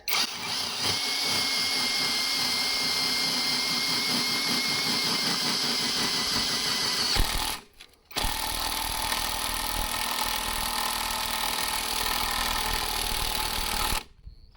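A Revolt impact wrench runs at third speed with a steady high whirring drone, cuts out briefly, then spins again before stopping; no voices over it.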